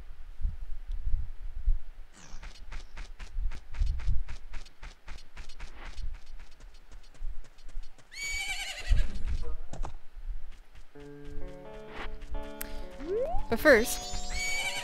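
The horse Epona neighs in the video game The Legend of Zelda: Majora's Mask, with several whinnies alongside game music, chimes and effects, and someone talking over parts of it.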